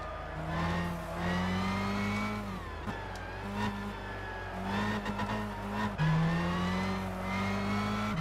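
Race car engine in Gran Turismo 6 screaming at high revs on a fast lap, with steady loud harmonic whine and sharp pitch drops at gear shifts around every few seconds, continuous and close.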